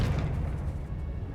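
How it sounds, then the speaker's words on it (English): A Confringo blasting spell explodes in Hogwarts Legacy, a single deep, rumbling boom that fills the short moment and then fades into a low roar, with no talking over it. "Confringo!"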